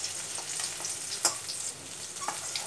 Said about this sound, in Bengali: এইভাবে এপিটপিট ভেজে সমস্ত মাছ আমি ভেজে নেব।